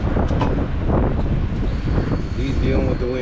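Strong wind buffets the microphone in a parking lot on a very windy day, a steady loud roar throughout with faint tonal whines and people talking faintly underneath.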